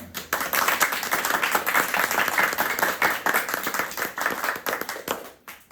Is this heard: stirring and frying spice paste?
no